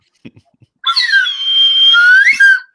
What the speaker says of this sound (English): And Noob, you can do that with your slide whistle.